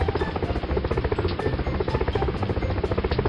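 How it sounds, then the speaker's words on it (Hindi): A helicopter flies over a flooded village, its rotor producing a steady, rapid throbbing beat that stays loud and close for the whole stretch. "हेलीकॉप्टर से आकर कुछ लोग खाने के पैकेट फेंकते थे।"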